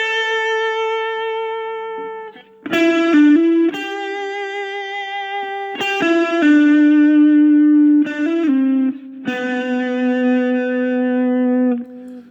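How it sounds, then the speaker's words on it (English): Electric guitar riff with light overdrive, a part from a song, played as sustained notes and short phrases with slides and pauses, close and loud with no talking. "I've used a little bit of overdrive on there."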